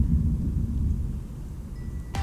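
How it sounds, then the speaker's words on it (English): Thunder rumbles through a severe storm, a low, continuous roll heard from indoors near an open window, with a sharp crack breaking in at the very end. "I don't know if you could hear that, but it just thundered."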